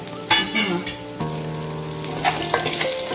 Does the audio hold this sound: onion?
yes